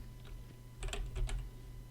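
Someone types code on a computer keyboard in a quiet room: a short burst of several close key clicks around the middle over a low hum.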